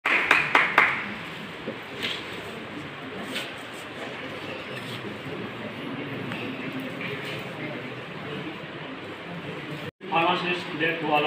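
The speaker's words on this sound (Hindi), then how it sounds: "तो जोरदार तालियों से स्वागत कीजिए उनका," Audience applause welcoming a pharmacy diploma student on stage at a Pharmacy Day event at a government pharmacy college, a brief burst of claps at the start, then a sustained crowd murmur before a voice begins speaking.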